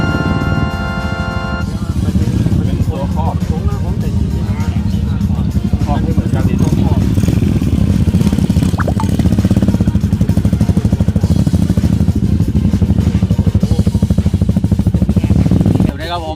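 Vintage Honda CB 400 kick-start motorcycle engine running at a Thai vintage bike gathering, a loud, steady, rumbling idle close by, continuous throughout with faint clatter.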